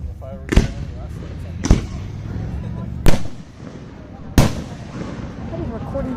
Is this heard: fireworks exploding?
yes